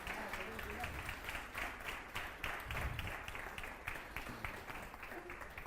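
A church congregation claps together in steady, even applause, a fairly faint but continuous wash of clapping with no voices over it.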